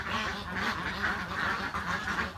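Ducks quacking continuously in a noisy, overlapping chorus on a farm in Tan Tru, Long An, Vietnam, fairly close and steady throughout.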